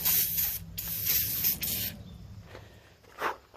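Pressurized water spray blasting off a hay baler in short, loud hissing bursts separated by brief pauses, then a quieter stretch with a few fainter spurts.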